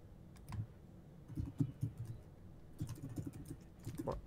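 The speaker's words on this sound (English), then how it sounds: "Where are you typing?" Someone types on a computer keyboard, quiet irregular bursts of clicking keystrokes with short pauses between them, close by and with no talking.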